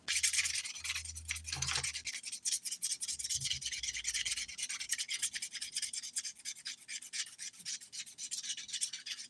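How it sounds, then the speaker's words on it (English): A 180 grit nail file lightly filing glitter dip-powder nails, quick rhythmic rasping strokes close up, with a few low thuds near the start. "I'm going to use a 180 grit side just to lightly file these glitter nails."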